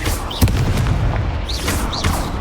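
Confringo blasting spell in the Hogwarts Legacy video game, a loud booming blast with crackling debris amid continuous game noise, plus short whooshing spell effects.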